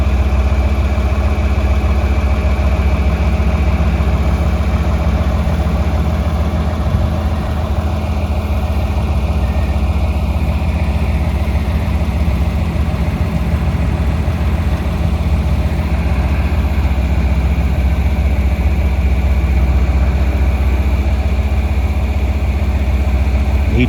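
Skid loader engine running steadily in a hay field while round bales are moved, a continuous loud low rumbling drone that holds constant throughout with no pauses and no voices.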